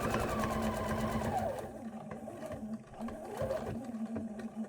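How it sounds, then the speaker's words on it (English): A sewing machine quilts a fabric placemat with a fast, steady mechanical whir and needle chatter, then slows and pauses, with a short burst of stitching near the end. "And then we'll come around one more side. And then finish where I started."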